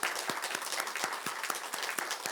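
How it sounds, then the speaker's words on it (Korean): A church congregation claps in encouragement for visiting missionaries, giving a thick, continuous round of applause with some individual hand claps standing out near the listener. "박수하시겠습니다"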